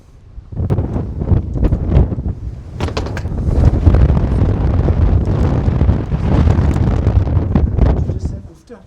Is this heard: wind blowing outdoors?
yes